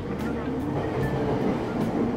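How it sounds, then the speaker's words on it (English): A train pulls into a station in Persona 5 Royal, giving a steady rolling rumble with faint rail clatter at a moderate, even level while a voice talks over it. "I like that we get a scene of the train pulling in when the train was already here"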